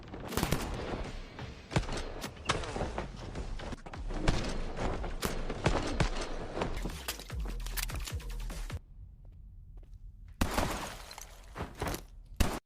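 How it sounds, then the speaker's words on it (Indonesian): Rapid gunfire exchange in a film fight scene between assassins, dense volleys of shots and bursts mixed with shattering glass, loud and close, pausing briefly before another burst of shots. "Pertarungan saling menghujani peluru pun sangat sengit."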